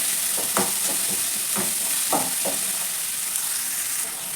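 Chopped onion and curry leaves fry in a pan for coconut poha, a constant hiss broken by several sharp stirring clinks and scrapes, close and alone.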